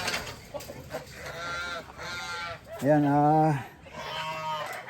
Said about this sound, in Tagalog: Pakainin natin muna itong manok.